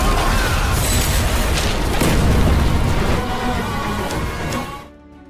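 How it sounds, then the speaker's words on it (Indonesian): A fuel tank blows up in an action film, a loud, sustained roaring blast with rumbling debris that lasts several seconds before fading out abruptly. "Arjun meledakkan tangki bahan bakar"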